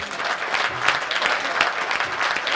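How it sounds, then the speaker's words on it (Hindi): Hearty audience applause at a Hindi comedy poetry gathering (hasya kavi sammelan), a dense, lively patter of many hands at steady loudness throughout, with no speech over it. "जरा एक बार मिलकर के तालियां बजाइएगा।"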